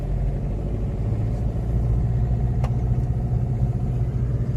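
A car engine hums steadily and close during a driving lesson, a constant low rumble with slight rattling and no clear rise in pitch, heard without any talking.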